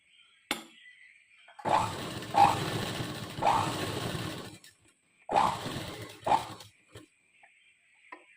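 Sewing machine stitches a zip onto a frock in short bursts, five or so whirring runs of rapid needle chatter separated by pauses, close and fairly quiet.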